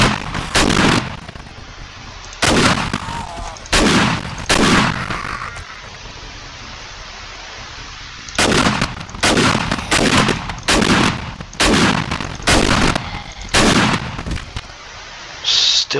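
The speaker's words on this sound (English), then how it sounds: "Shotgun time." Shotgun blasts in 7 Days to Die, loud booming shots in clusters, a few early then a rapid string of blasts near the end, with short gaps between groups and no talking.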